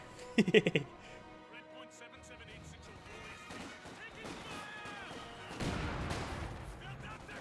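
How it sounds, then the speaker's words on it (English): A mortar shell hits in Company of Heroes 2 amid battlefield noise: sharp clustered cracks early on, then quieter rumbling and a broader blast later, with a commentator talking throughout. "Great mortar hit there."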